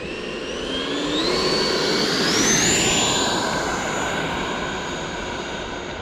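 An Eflite F-18 80mm Hornet RC jet on its maiden flight takes off with a loud whining electric ducted-fan roar that swells, climbs sharply in pitch as it passes near, then fades slightly as it climbs away.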